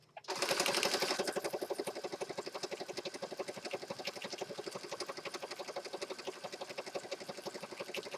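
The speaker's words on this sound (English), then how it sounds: "I'm just going to stitch around just to add that added dimension and look to it." A sewing machine stitches around the edge of a journal page, a fast, even mechanical chatter that starts abruptly and runs steadily throughout, close and moderately quiet, with no voices.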